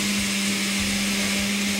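Electric kitchen blender running steadily while mixing eggs for an Arabic cake batter, a continuous loud motor whine with a strong steady hum throughout, no voices.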